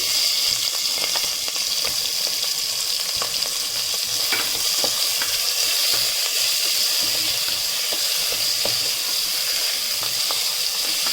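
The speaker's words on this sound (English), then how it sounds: "now add green chilies, then onion" Green chilies and onion hitting hot oil in a pan for mint rice, a loud continuous hiss with light stirring scrapes and small clicks, close up and without talk.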